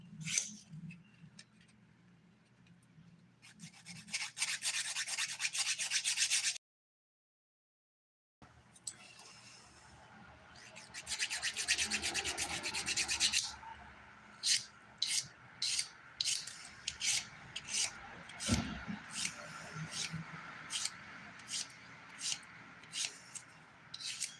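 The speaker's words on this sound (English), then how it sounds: "This is the nail I said was going to need a light filing, so let's do that." Light filing of a fingernail during a dip-powder manicure, a steady scratchy rasp in stretches broken by a brief silence, later turning into short repeated strokes, with occasional talking over it.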